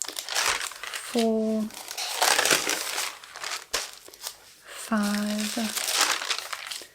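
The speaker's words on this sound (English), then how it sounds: "the crinkle is immaculate" Crinkled copy paper is crumpled and handled in loud, close, continuous rustling and crackling. A person counts aloud over it in two short stretches.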